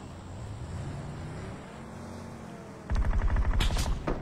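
Gunfire in a video game: quiet game ambience with low rumble, then a loud burst of rapid, repeated shots near the end, sounding like an automatic weapon more than single sniper cracks.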